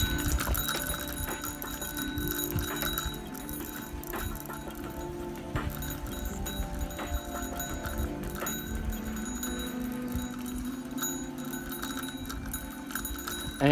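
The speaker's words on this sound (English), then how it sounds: "And that bell has got to go." A bicycle bell rings repeatedly over steady ticking and clattering on a ride along Long Leaf Trail in Santa Rosa Beach, Florida, the metallic rings close and continuous with no talk.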